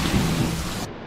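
Heavy rain pours in a steady broadband hiss beneath a low rumble of thunder during a violent storm, loud and close, cutting off abruptly near the end.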